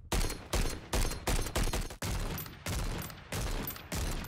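Longbow shots with death and decay tracers in a zombie video game fire in about nine sharp, loud bursts in quick, uneven succession, each ending in a brief decaying tail, with no talk.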